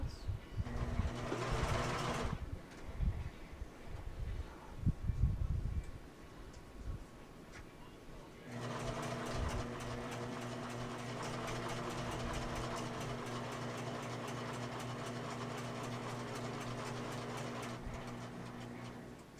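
A sewing machine runs a straight stitch along a bag seam, starting with a short burst, pausing amid handling noises, then stitching steadily for about ten seconds in a faint, even whir.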